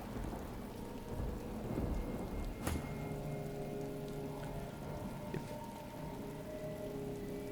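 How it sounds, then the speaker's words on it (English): Steady rain hisses through a fantasy role-playing game scene in Divinity: Original Sin 2, conjured by a spell, with a sharp thunder crack near the three-second mark and a softer rumble later under the continuous downpour. "And he made it rain."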